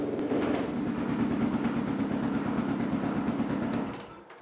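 A Kawasaki KLR 650 motorcycle's single-cylinder engine idles while warming up after a coolant flush, a steady close thumping beat that runs evenly and then dies away at the end, with no talking.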